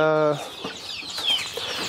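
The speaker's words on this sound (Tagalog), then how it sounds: "ito mga native chicken natin" Native chickens cluck close by in a short flurry of soft, scratchy calls over faint yard noise, following a brief tonal sound at the start.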